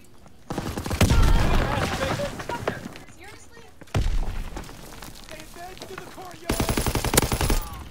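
Machine-gun fire and rifle shots in the World War II shooter Call of Duty: WWII, arriving as several loud bursts separated by quieter stretches, with a voice talking in between.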